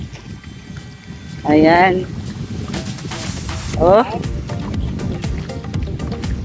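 Strong wind gusts blow over open water around a small fishing boat on a lake with water lilies, a steady rough rumble buffeting the microphone while someone speaks briefly over it.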